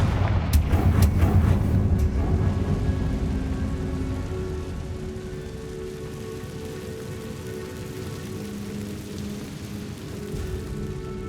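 A Confringo explosion spell cast in Hogwarts Legacy: a sharp burst of crackling blasts in the first two seconds, then a long, rolling, rumbling tail that slowly fades, with no talk.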